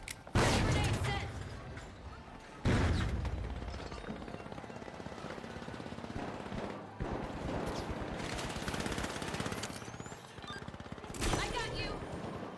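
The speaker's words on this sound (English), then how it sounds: "Frag grenade sent." A frag grenade detonates in The Finals amid constant close-range gunfire; sharp loud blasts punctuate a dense, continuous rattle of weapons and chaotic game noise.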